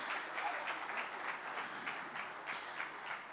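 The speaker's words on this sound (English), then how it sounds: "Can we give them a bigger round of applause for this?" A conference audience at a business conclave gives the panel a round of applause, dense steady clapping heard at a moderate distance, filling the whole stretch without voices over it.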